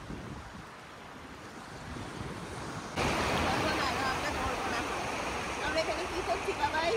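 Sea waves breaking on the beach at Mandarmani, a steady near surf roar that swells louder partway through, with wind buffeting the microphone.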